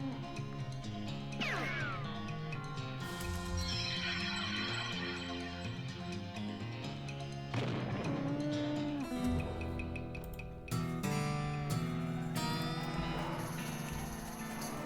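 Cattle mooing inside the West of Loathing video game, several drawn-out lowing calls over busy game music and effects, moderately loud.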